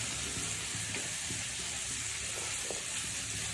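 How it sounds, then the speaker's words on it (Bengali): Prawns fry in a little oil in a wok, giving a steady, close, even sizzle and hiss with no talking. "এখন হচ্ছে চিংড়ি মাছগুলো ভেজে নিব"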